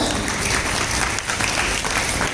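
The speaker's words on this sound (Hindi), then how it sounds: "बलिया की टीम पुष्पांजलि के लिए गई थी, इसके लिए जोरदार तालियां हो जाए" Loud, dense applause from a crowd at the opening ceremony of a karate championship, honouring the Ballia team, steady and continuous throughout.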